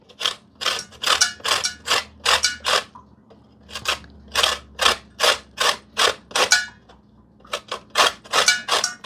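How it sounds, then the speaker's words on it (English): A lemon being rubbed against a zester over a bowl in a home kitchen, giving a steady series of short, close, raspy scraping strokes in a regular rhythm, with a brief pause partway through and no talking. "I want to shave some lemon"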